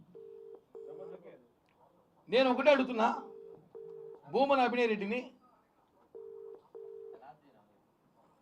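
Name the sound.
telephone call dialing tone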